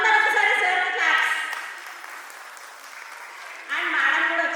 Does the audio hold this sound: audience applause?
yes